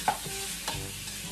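Pork frying with spices in a pan, a close steady sizzle with a few soft stirring scrapes and clinks, heard without any talking.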